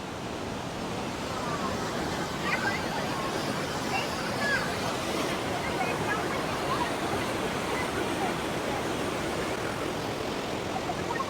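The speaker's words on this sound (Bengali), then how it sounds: "অনেকটা এরিয়া নিয়ে এই জলপ্রপাত।" A wide waterfall near Dhanbad roars as a steady, dense rush of falling water that fills the scene evenly without pause.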